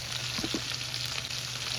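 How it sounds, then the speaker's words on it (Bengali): Food frying in a kadai for chicken ghee roast, a steady broadband sizzle with a low hum beneath and a few soft stirring knocks near the start, close and continuous. "একটু নেড়ে নিয়ে একটু ভাজা ভাজাটা হতে থাক"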